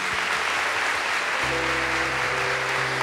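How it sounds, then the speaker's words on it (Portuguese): Applause from a church audience welcoming a guest preacher, a dense steady wash of clapping that stays loud throughout, with a low hum entering partway. "Uma salva de palmas para ele."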